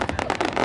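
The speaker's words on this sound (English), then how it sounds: "From wedding sparklers to black cats to the Super Shell mortar, the largest reloadable mortar that you can purchase" Consumer fireworks, from wedding sparklers and Black Cat firecrackers to reloadable Super Shell mortars, give off a rapid, dense crackle of overlapping pops and bursts through a short, loud stretch.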